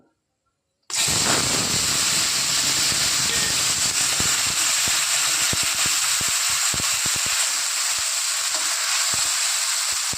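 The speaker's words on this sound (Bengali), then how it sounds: "এবার দিয়ে দেবো আদা পেঁয়াজ রসুন কাঁচা লঙ্কার পেস্ট, আর এখানে 3টে টমেটো আমি কেটে রেখেছি, একসাথে দিয়ে দেবো" Ginger, onion, garlic and green chili paste with three chopped tomatoes hits a hot pan and sizzles loudly, with an intense, steady frying hiss that continues throughout after a brief silence at the start.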